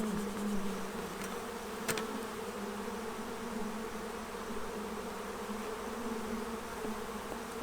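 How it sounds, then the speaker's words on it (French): Honey bees from a Saskatraz colony hum around an open hive during an inspection, a dense, steady buzz close by with no talking. "Maintenant, je vais pouvoir venir prendre des abeilles."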